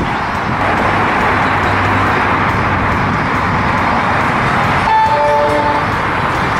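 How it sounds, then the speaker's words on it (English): An Orange Line train rumbles steadily close by as it arrives at Beltline Station, with a horn-like tone sounding briefly near the end. "here comes our train"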